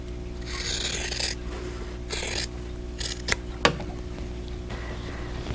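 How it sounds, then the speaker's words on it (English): Several short rasping snips of scissors cutting quilting fabric, in uneven bursts over a steady low hum. "I'm just going to use my scissors."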